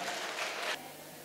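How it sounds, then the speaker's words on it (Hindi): Steady, moderately distant applause fills a school hall at a promotional event, a dense wash of clapping that drops off abruptly partway through and leaves a fainter background. "जोरदार तालियां एक बार"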